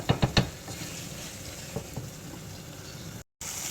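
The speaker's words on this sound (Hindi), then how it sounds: "कलेजी में जो अपना पानी है उसे पहले हमने भुनाई करके ख़त्म करना है" Beef liver (kaleji) fries in a pan, giving a steady sizzle and bubbling hiss, with a few sharp knocks of stirring at the start and no voices.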